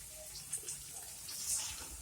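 Water splashed into a pan of garlic, turmeric and chili cooking for beef bhuna, a soft, faint pouring hiss and gentle bubbling that carries on quietly without any talk.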